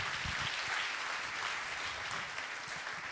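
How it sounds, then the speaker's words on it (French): An audience at a New Year's greetings event for a training institute applauds a staff member, a dense, even wash of clapping from many hands, sustained and fairly close. "J'aimerais bien qu'on l'applaudisse, Monique"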